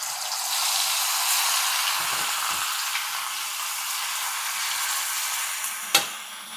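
The last few prawns fry in a little oil with a steady bright sizzle. A few soft stirring scrapes occur partway through, and a sharp clack of a utensil comes near the end.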